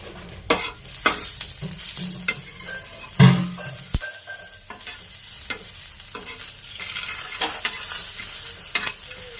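Five or six garlic cloves frying in hot oil, with steady close sizzling and crackling broken by repeated stirring scrapes and a few louder clatters.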